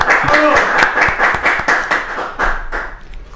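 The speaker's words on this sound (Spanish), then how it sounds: "Fuerte los aplausos para Guillermo Saracho." A studio audience claps for an interview guest, a sharp burst of hand claps that thins out and fades over a few seconds, with some voices underneath.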